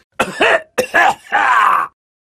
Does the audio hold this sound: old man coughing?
yes